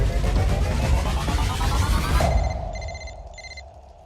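A telephone rings in a crime thriller scene: a loud burst of ringing under dense background noise, then a few clear electronic chirps repeating in short pairs as the surroundings quiet down.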